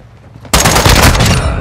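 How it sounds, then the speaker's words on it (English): Sudden burst of rapid automatic gunfire in Call of Duty: Modern Warfare II multiplayer, loud and dense, erupting after a brief quiet moment and continuing without pause. "Taking effective fire!"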